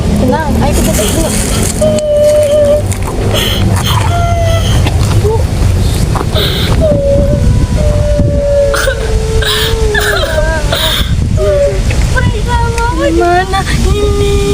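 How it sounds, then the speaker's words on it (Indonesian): A small child cries outdoors in wavering, hiccuping sobs that repeat over wind noise, with people talking nearby. "Ada suara nangis."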